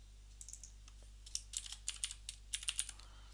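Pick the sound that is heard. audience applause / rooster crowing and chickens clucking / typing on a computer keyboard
typing on a computer keyboard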